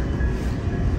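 Swiss passenger train running from Zurich toward Zermatt, heard from inside as a steady low rumble with a faint constant whine, continuous and even throughout with no talk.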